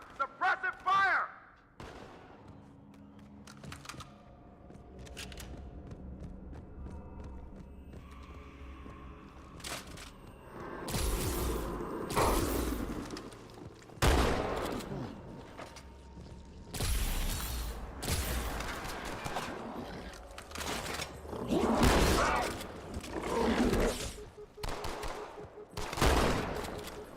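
Bursts of automatic and single-shot gunfire from the video game Halo 2, loud sharp volleys coming in irregular clusters with mechanical clicks and quieter gaps, mixed with game voices.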